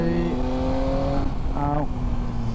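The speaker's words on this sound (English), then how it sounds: "a little bit of trail braking into the corner and accelerate" A Triumph Tiger 800 XCa motorcycle engine revs up and climbs in pitch as it pulls out of a corner on Dartmoor roads, loud and close with heavy wind rush.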